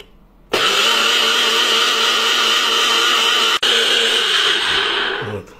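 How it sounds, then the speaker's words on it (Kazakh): A loud blender whirs steadily for about five seconds, mixing an antiparasitic cocktail with water. The motor kicks in abruptly, dips briefly near the end and then winds down. "Сосын блендерден өткіземіз."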